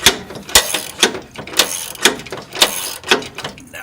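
A wrench ratchets as it tightens a bolt on a rear bumper being installed on a Jeep TJ, giving repeated bursts of clicking about twice a second, close and clear with no talk.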